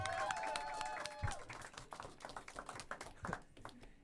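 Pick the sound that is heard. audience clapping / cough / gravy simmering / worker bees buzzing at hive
audience clapping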